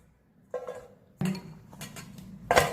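A knife slits green chillies for pakoda in three short, separate cutting strokes, close and fairly quiet, with no talk.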